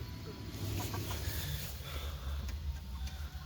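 A broody hen on a small farm gives low, continuous clucking and murmuring close by, steady through the whole stretch with no voices.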